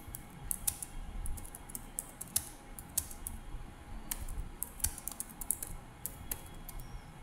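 Rapid, irregular keystrokes on a computer keyboard while HTML content is typed; light clicking runs steadily throughout at a quiet, close level, with no voices.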